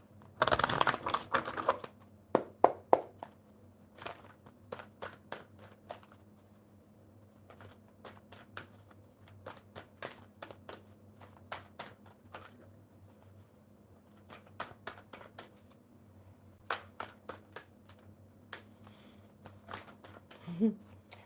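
A deck of tarot cards is shuffled by hand in a burst of dense riffling near the start, then softer scattered flicks and taps of cards over a faint hum.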